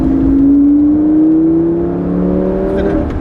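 A Ferrari F458 or Lamborghini Gallardo on the Lohéac circuit accelerates hard out of a chicane, its engine note climbing steadily in pitch as it pulls through the gears, loud and close from onboard, with faint talk underneath.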